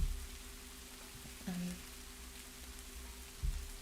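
Steady, soft rain sound plays in the background as a constant hiss, with a couple of faint low thumps and no clear talk.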